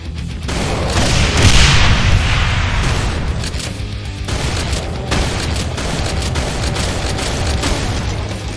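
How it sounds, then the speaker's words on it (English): A pump-action shotgun fired in slam-fire bursts in the Brutal Doom game, with loud booming blasts running together over a dense, sustained rumble of gunfire and explosions. "It works as a powerful pump-action shotgun that holds 9 shells"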